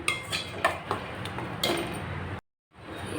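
Pirandai sautéed in oil in a pan, a spoon clinking and scraping against the metal in a few irregular taps, close but soft, then a brief cut to silence before the stirring resumes.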